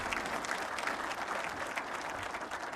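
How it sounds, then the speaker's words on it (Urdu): A seated audience at a government ceremony with the Pakistani prime minister applauds, a crowded, steady clatter of many hands at even loudness throughout, without speech. "بھائی تالیاں لگائیں."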